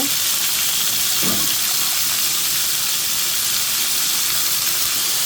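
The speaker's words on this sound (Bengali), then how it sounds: "বরবটি আর আলুটা একটু হলুদ আর লবণ দিয়ে ভেজে নিতেছি" Yardlong beans and potato pieces frying in a pan with turmeric and salt, a dense continuous hiss of sizzling oil close up, with one brief low knock early on.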